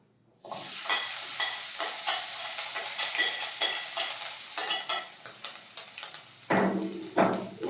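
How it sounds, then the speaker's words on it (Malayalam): Grated coconut and shallots fry in hot oil in a pan, with a steady sizzle and repeated scraping strokes of a spoon stirring them, close and fairly loud. "ഇതിലേക്ക് നമുക്ക് തേങ്ങ ഇട്ട് കൊടുക്കാം."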